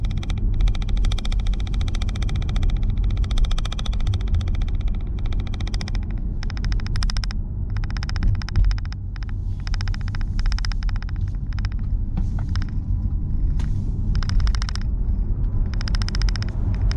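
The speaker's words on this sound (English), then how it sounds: "All you can hear is a little bit of tyre noise, a bit of road noise" Steady low tyre and road rumble fills the cabin of a Hyundai Ioniq 5 while it drives, a constant muffled drone with faint lighter hiss on top and no voices.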